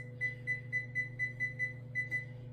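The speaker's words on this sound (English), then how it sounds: "I'm going to put my timer on, and I'm going to put it on for 25 minutes." Kitchen timer set while baking white bread, giving a steady run of short, clear electronic beeps at an even rhythm, about ten in a row, over a low steady hum with no talk.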